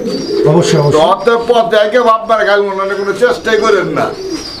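Pigeons coo loudly and close, with overlapping throaty calls rolling continuously, and a voice speaking briefly among them.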